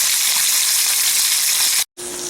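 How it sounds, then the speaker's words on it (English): Pot roast searing against the side of a hot pan, a loud continuous hiss and sizzle that stays even, breaks off briefly near the end, then resumes. "we also want to sear on the side, move it over to the side of the pan"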